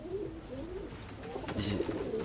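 Pigeons inside a dovecote coo in soft, rolling low calls, close and moderately quiet, several short coos overlapping over a few seconds.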